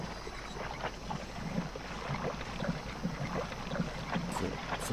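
Murky, watery bog ambience from the video game Demon's Souls, a steady low wash of wind-like rumble and lapping texture that holds at a moderate level with no clear separate events.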